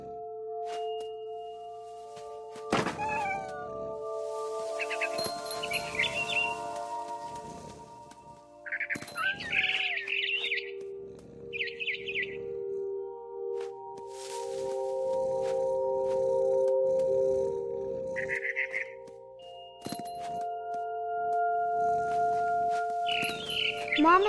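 Barn swallow chirping in What Remains of Edith Finch, scattered short twittering bursts spaced several seconds apart, fairly close and clear over a sustained musical drone with occasional soft knocks.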